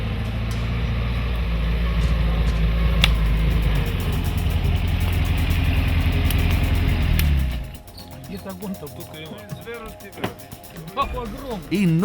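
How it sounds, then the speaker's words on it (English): A deep, steady rumble of a distant Steyr off-road vehicle engine fills the first seven seconds, then cuts out, leaving quieter scattered sounds and faint voices. "we hear the distant rumbling of the Steyr engine"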